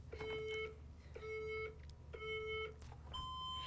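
Timer alarm going off during a quiz: three evenly spaced electronic beep bursts, each about half a second long, then a final higher-pitched tone, fairly faint against a low background hum.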